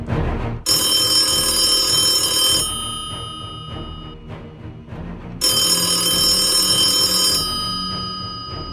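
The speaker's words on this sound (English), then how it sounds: "Surgeon Gamini's phone rang at 7 o'clock in the morning on the 22nd of June 1986." An old-style telephone bell rings in two long bursts separated by a pause, loud and close, each ring ending in a fading metallic shimmer.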